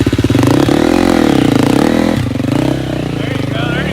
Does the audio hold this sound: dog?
no